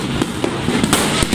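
New Year fireworks going off in quick succession, several sharp loud bangs over a steady roar of crackling explosions, with no talking.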